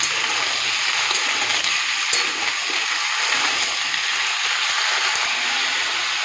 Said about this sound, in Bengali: আলু পেঁয়াজটা ভাজা হতে থাক